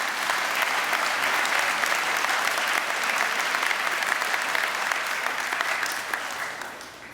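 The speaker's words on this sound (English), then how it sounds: "Let's give our choir a round of applause." A school assembly audience gives a choir a round of applause, with sustained, dense clapping from a large crowd that holds steady and then fades slightly at the end.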